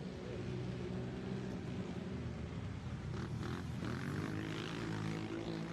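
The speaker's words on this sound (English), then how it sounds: "Much quieter 4x4 machine." A 4x4 ATV engine drones steadily at the start of a GNCC off-road race at Steele Creek, a fairly quiet machine with a continuous rumble and no talk over it.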